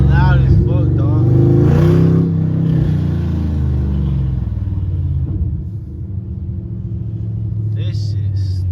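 A Pontiac G8 fitted with Kooks long tube headers, its exhaust rattling, rumbles deep and loud through a rev, the engine tone swelling and settling while someone talks over it.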